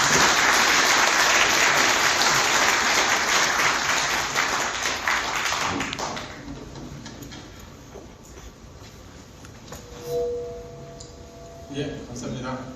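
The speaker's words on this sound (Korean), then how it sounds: "이 전문가들에게 감사의 박수를 보내주시기 바랍니다." Applause fills a press-center hall for two experts, a dense loud clapping that fades out after several seconds, leaving a quiet room with small scattered noises.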